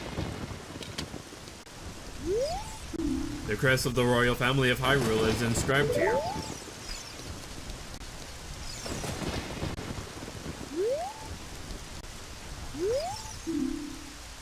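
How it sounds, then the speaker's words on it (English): Light rain falls steadily in the Zelda Ocarina of Time graveyard, a soft continuous hiss running beneath game chimes and music, with a voice talking over part of it. "It is raining a little bit."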